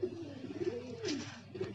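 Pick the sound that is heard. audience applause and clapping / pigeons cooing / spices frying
pigeons cooing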